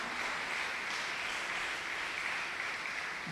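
A crowd applauds steadily during a Sunday Mass gathering as church brothers come forward, a dense, even wash of clapping with no speech over it.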